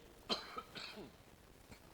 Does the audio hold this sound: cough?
yes